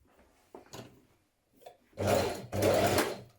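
A sewing machine stitches a bodice shoulder seam, joining back to front with a 1.5 cm seam allowance on a fitted dress, running in two loud, steady bursts after a few faint handling sounds.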